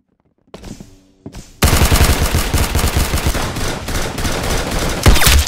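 Rapid automatic gunfire in the Roblox game Arsenal: after a couple of short bursts, a loud, continuous stream of shots rattles on for several seconds without pause.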